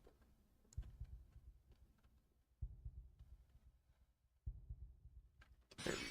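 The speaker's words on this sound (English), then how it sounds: "I hear like a heartbeat" A heartbeat in the snowy video game Deltarune Chapter 4 pulses faintly as soft, low, evenly spaced double thumps, with a brighter burst of game sound at the end.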